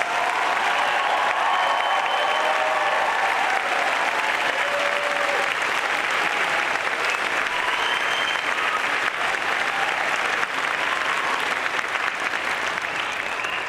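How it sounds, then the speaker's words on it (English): A large graduation crowd applauds the class of 2024 at a school ceremony, a dense, steady wash of clapping that holds at full strength from start to finish without letting up. "Let's give them, our newest alums, one more round of applause."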